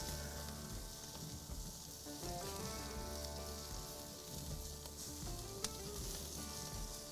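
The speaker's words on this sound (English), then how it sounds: "we are going to baste this burger with some butter." A burger sizzles steadily on a grill while being basted with butter, a constant crackling fry with light clinks and one sharp tap near the end, no voices.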